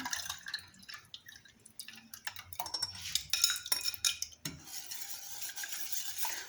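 A milk and egg mixture for a chilled lemon dessert is stirred in a pot, with a spoon clinking and scraping against the sides over quiet liquid sloshing and drips, close up and without talk.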